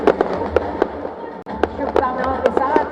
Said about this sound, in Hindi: शुभकामनाओं के साथ ये आतिशबाजी का शो